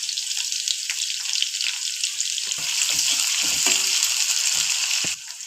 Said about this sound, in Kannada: ಈರುಳ್ಳಿ ಸ್ವಲ್ಪ ಕೆಂಪಾಗೋವರೆಗೂ ರೋಸ್ಟ್ ಮಾಡ್ಕೋಬೇಕು ಸ್ವಲ್ಪ ಇದನ್ನು